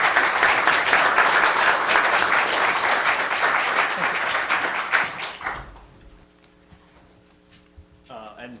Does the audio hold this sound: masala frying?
no